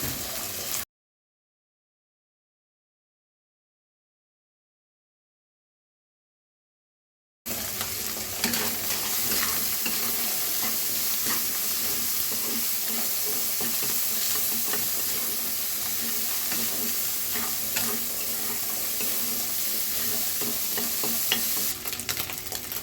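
Shrimp stir-fried with chopped onion, garlic and plenty of green chilies sizzles loudly in a pan, with frequent close scraping and stirring strokes. A stretch of silence comes first, then steady frying continues to the end with no talking.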